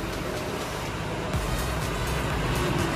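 A bus pulls slowly out of a parking lot ahead of a Lombok–Bali ferry crossing, its engine a steady low rumble mixed with surrounding traffic noise and no talk.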